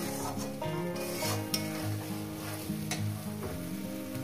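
Jackfruit curry sizzles and fries in a pan as it is stirred and sautéed with spices, with steady loud sizzling, scraping stirs and occasional clinks of a spoon against the metal, no voices.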